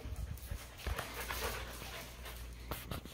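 Dogs at an indoor dog karate dojo pant quickly and steadily, with a few soft whimpers and small sharp knocks mixed in, all fairly faint, with no talking.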